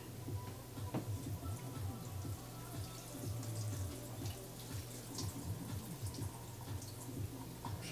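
Water pouring and splashing as it drains out of a pot of tripe into a sink, a steady close gush lasting throughout with no talking.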